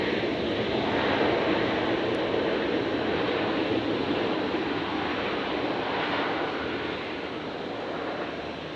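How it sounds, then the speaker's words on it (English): A Virgin airliner arriving from Melbourne touches down at Brisbane airport on a stormy night, a broad, steady jet roar heard from a distance that slowly fades, with no voices. "Virgin 349 touching down from Melbourne"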